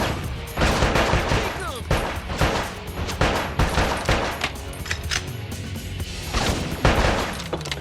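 Rapid gunfire in a video game shoot 'em up, repeated sharp shots and bursts, loud and close, in a dense busy mix with a voice briefly heard.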